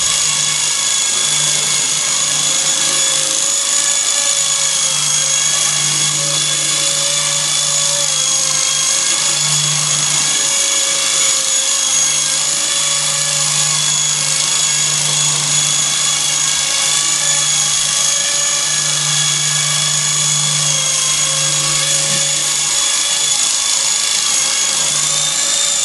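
A Traxxas QR-1 quadcopter hovers indoors, its small rotors giving a steady high-pitched whine with a faint pulsing hum underneath, continuous and close throughout.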